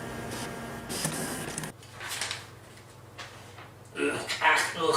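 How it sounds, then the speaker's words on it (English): An old printer whirrs and clatters as it prints out a program, mechanical buzzing and sliding bursts that stop and start, with a loud rattling run near the end. "Let me run this program through my printer."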